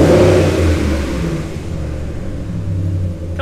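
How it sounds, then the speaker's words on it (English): A pickup truck with an aftermarket exhaust revs up with a deep, throaty exhaust rumble, then settles back into a low, steady idle. "you can hear that it does have a pretty sweet aftermarket exhaust system"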